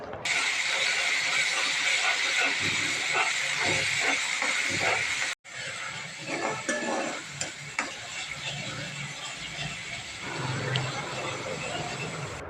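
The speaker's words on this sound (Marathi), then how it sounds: "आता आपण तयार केलेली पेस्ट वाटणाची यामध्ये घालणार आहोत तेलामध्ये चांगली लालसर होईपर्यंत परतून घ्यायची आहे" Ground masala paste sizzles and fries in hot oil in a wok while being stirred, a continuous loud hiss with scraping spoon clatter, broken by a brief cut midway, with a voice faintly in the background.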